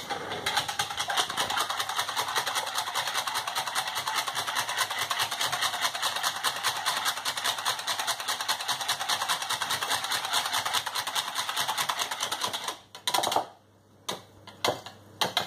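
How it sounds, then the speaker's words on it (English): Wet ingredients for jam doughnut muffins being mixed by hand, a steady rapid rhythmic beating or whisking that runs loud and continuous before breaking into a few scattered knocks near the end. "So now we're going to mix all the wet ingredients."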